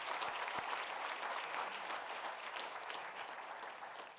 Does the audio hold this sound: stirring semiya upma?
no